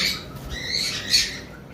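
A double red factor pair of conure parrots squawks in a few loud, harsh bursts, the strongest near the end, with no talk over them.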